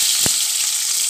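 Onion frying in hot oil just after mustard seeds have spluttered, heard as a loud, close, continuous bright sizzle with a couple of brief low thumps.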